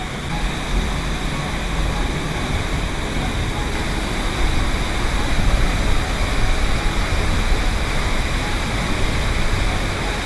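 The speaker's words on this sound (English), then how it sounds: "That is a beautiful waterfall." Steady roaring rush of a waterfall in Bali, broad and constant, filling the whole scene with no pauses.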